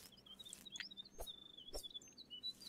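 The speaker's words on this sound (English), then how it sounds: "I'm hearing a bird." A small bird chirps repeatedly, with short bright tweets and trills scattered across the whole stretch, moderately close and with no talk over it.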